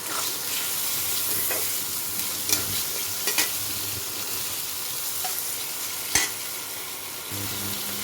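Chopped potato fries in hot oil for a chatpata sabudana dish, a steady sizzle under intermittent stirring scrapes and a sharp knock of the spatula against the pan.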